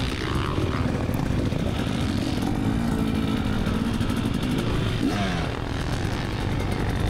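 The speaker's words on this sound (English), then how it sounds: "riding the 24 KTM 300 SX." A 2024 KTM 300 SX two-stroke motocross bike rides at a practice day at Moto541, its engine a steady, loud buzzing drone that holds throughout and rises and falls slightly in pitch.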